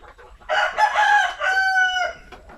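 Sampi native chickens on a farm, a loud nearby rooster crow with a drawn-out, wavering call, preceded and followed by faint clucking, with no talk.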